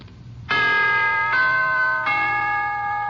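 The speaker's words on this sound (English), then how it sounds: "here is a holiday wish from the NBC Chimes." Three-note NBC broadcast chime on an old-time radio broadcast, bright sustained bell tones ringing out in sequence, loud and clean, with no speech.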